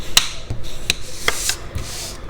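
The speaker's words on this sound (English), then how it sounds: "we're gonna fold this over and burnish it." Folded paper card being burnished flat for a handmade Stampin' Up! card, giving a few short, dry rubbing swipes spaced across a couple of seconds, close and fairly quiet.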